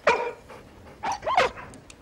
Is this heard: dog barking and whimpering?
yes